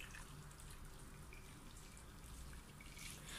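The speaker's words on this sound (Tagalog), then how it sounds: "Saka po natin ito lalagyan ng mainit na tubig." Hot water pours steadily over rice noodles in a large bowl, a faint continuous trickling and splashing with no talk.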